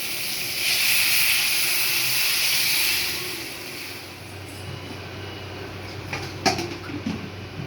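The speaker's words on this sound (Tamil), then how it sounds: "தண்ணி ஊற்றிக்கலாம்" Water poured into a hot pan of Maggi noodles seasoned with turmeric and chili powder sends up a loud, steady sizzling hiss for about three seconds, then settles into a quieter simmer with a brief clatter near the end.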